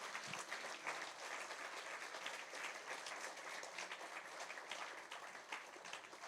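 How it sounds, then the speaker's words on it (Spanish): A church congregation gives a loud, sustained round of applause for Jesus, a dense wash of many hands clapping evenly from start to finish, captured at low level. "Dar un aplauso fuerte a Jesús"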